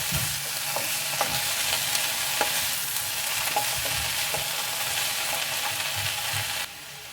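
Boiled broccoli tossed and stirred in a pan for a dry fry, a steady soft sizzle with repeated scraping strokes of the spoon, close and continuous, with no one talking.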